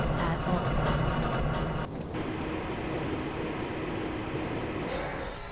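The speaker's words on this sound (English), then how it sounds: "This train is inbound from the Area 8 topside dormitories to the central transit hub in Area 9." A train rolls through the Black Mesa transit system in Half-Life: Blue Shift, giving a steady low rumble with rattling undertones, close and continuous for the whole stretch.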